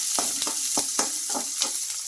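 Chopped onions and green chillies fry in hot tempering oil, crackling and sizzling with a handful of sharp pops as they are stirred in a pan.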